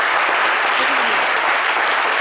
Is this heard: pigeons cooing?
no